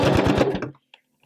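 A sewing machine stitching a fabric Easter egg, a fast rhythmic burst of needle strokes lasting under a second, close and loud, then stopping abruptly with a couple of faint clicks after, with no talk.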